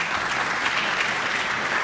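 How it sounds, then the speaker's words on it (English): An audience at a college lecture in Queens, New York gives a round of applause, a continuous, even roar of many hands clapping with no break. "Please give her another round of applause"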